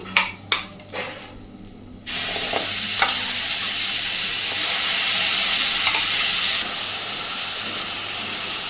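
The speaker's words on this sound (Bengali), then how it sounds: "তো পুরটার জন্যে আমি প্রথমেই কড়াইতে দিয়ে দিচ্ছি যে শাঁসটা পটলের আমি রসুন আর কাঁচা লঙ্কা দিয়ে বেটে রেখেছিলাম, সেই শাঁসটুকু" Pointed gourd pulp ground with garlic and green chilli goes into a hot wok after a few sharp clinks, then hisses and sizzles loudly and steadily while being stirred.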